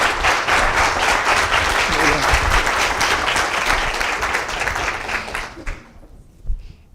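Dense applause from a lecture audience greets a speaker, a loud sustained roar of many hands that holds for several seconds, then thins out abruptly into a few stray claps and near quiet.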